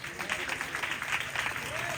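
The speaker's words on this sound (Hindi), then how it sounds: "तालियां बजा सकते हो?" A church congregation at a live sermon claps together, a dense, steady patter of many hands a short distance away, with a voice faintly mixed underneath.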